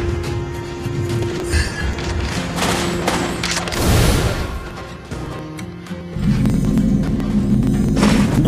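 A Mobile Legends: Bang Bang turret collapsing amid fighting, with a sustained burst of booming, crashing impacts and gunfire-like clatter over a steady game backdrop, swelling near the middle and then shifting to a low drone.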